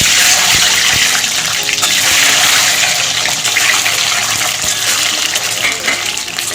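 Eggs frying in hot mustard oil in a kitchen pan make a loud, continuous hissing sizzle that fills the whole stretch, with a few sharp spatters and pops breaking through.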